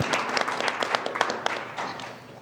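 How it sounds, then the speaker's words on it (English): A symposium audience applauding its executive committee, a short burst of indoor clapping from many hands that fades slightly toward the end. "let's give it a round of applause for our WISE Executive Committee"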